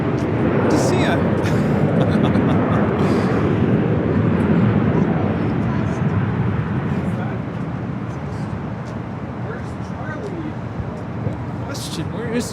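An 11-year-old Airbus A380 Super airliner roars past at LAX, a broad, loud, sustained engine rumble that slowly fades over several seconds as the jet moves away, with faint voices of plane spotters nearby.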